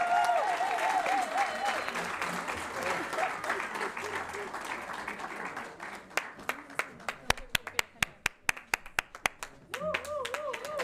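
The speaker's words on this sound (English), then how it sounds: "A round of applause for the first of many." Audience applause at a university research plan launch, starting as dense clapping mixed with crowd voices and thinning into a few loud, separate claps near the microphone before speech resumes.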